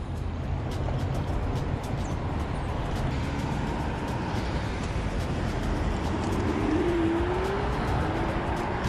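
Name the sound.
cars driving past on the street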